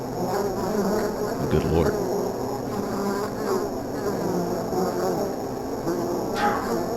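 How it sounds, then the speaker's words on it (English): Dense, loud swarm of bees buzzing in a continuous drone, an audio sample within the Home Safety Hotline video game, with a man briefly exclaiming over it. "Homeowners infested with bees sometimes report buzzing"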